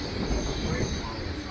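Kolkata Circular Railway train running along its loop line, a steady, loud rumble of the moving carriage heard from near the open door, continuous throughout with no distinct clatter or horn.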